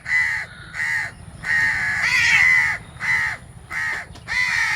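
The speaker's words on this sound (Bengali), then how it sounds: "ছোটো ছোটো কাকের বাচ্চা" Young crows caw beside the Padma river in a rhythmic series of about seven harsh, close, fairly loud calls, each separated by a short gap.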